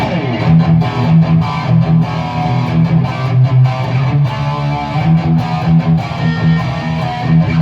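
A distorted electric guitar plays a crunchy classic rock riff through a Fractal unit into a $99 head, loud and steady with rhythmic chord hits throughout.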